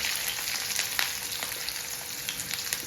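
Onions frying in a generous amount of oil in a pan give a steady, close crackling sizzle that runs without a break and carries small pops throughout.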